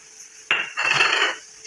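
A spoon scrapes and clinks against a pan while cooked home-grown vegetables are stirred, giving a sharp metallic strike followed by a longer, rough scraping stir, close and fairly loud.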